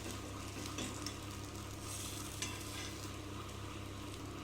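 A bread omelette cooks in a pan with a soft, steady sizzle and hiss, low in level and close, without any voices.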